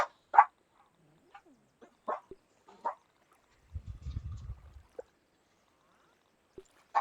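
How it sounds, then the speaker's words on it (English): Dogs barking in a hallway, a few sharp separate barks spread through the clip with a low rumbling patch in the middle, heard at moderate distance with no talk over them. "I hear them, dog. They are barking in the hallway."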